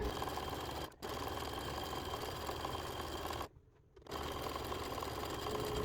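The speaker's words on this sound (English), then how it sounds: "I'm just going to keep on keeping on stitching away with this triple step zigzag." Domestic sewing machine running a triple step zigzag stitch to hem a top, a steady close mechanical whir with two short pauses in the run.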